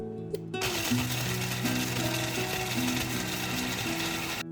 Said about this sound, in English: I've taken 72 grams of these biscuits and I'm blending them into a coarse powder